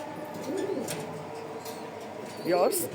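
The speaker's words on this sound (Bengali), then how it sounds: "একেবারে অরিজিনাল ওমানি রামপুরি কবুতর" Omani Rampuri pigeon cooing, a soft low warbling coo repeated near the start and again louder near the end, close by, with faint background noise between calls.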